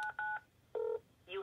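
Touch-tone keypad beeps come from a telephone dialing an extension: three short dual-tone presses with brief gaps between them, close and clear with no voices.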